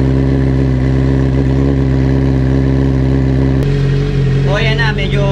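A Honda CB650R motorcycle with an Ixil Carbon Extreme exhaust runs while the engine warms up. It holds a loud, steady idle up close, then the pitch shifts and rises sharply in a quick rev near the end.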